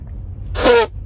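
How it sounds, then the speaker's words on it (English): A single sharp, loud sneeze bursts out close by against a quiet background. "Going into a big sneeze"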